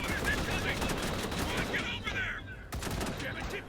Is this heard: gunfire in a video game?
yes